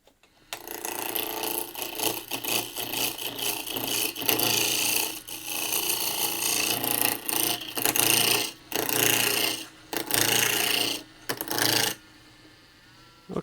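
A wooden gavel handle blank, about 1 by 1 by 9 inches, being turned between centers on a lathe, with continuous scraping and rasping of a tool against spinning wood, interrupted by short pauses before fading near the end.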